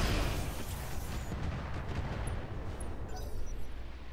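High explosive weapons fire in the Roguetech mech game against a rocket carrier, a dense, rumbling barrage of booming impacts rolling on continuously at moderate volume.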